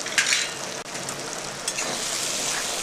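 Spiced masala paste for paneer chana masala sizzles in hot oil as it is stirred in a pan, a steady close frying hiss with a brief dip partway through.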